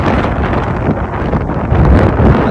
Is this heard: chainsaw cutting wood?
no